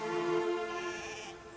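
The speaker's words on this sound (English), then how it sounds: "All the sheep were waiting for him." A sheep in a valley gives a single drawn-out, wavering bleat, fairly faint and heard on its own.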